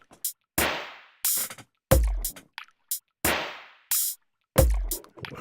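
Water sound effect from a Punch-2 synth, played as a run of short bursts that repeat in a pattern, some sharp and clipped, others splashy and fading, clear with no talk.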